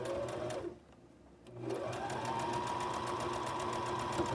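A sewing machine runs at a steady close hum, stitching a quilt seam. It stops briefly after the opening second and then resumes its even, rapid whir through to the end.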